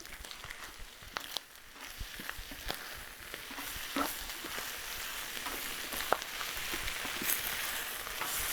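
Drunken noodles being stir-fried and mixed in a hot pan, a steady close sizzle with scattered scraping and clacking stirring strokes throughout, no talking.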